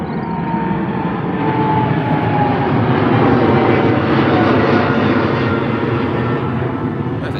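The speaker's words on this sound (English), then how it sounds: "Big one off now. Qatar Airways off to Doha." A Qatar Airways jet airliner in oneworld livery takes off from Heathrow bound for Doha, its engines roaring loud and close in a sustained, dense wash of sound.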